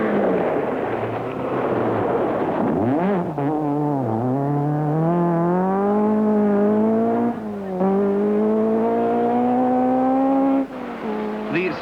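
A Ford Escort rally car at the 1972 Welsh rally revs hard and climbs through its gears close by, the loud engine note rising and falling steadily for the whole stretch, with a brief dip near the end.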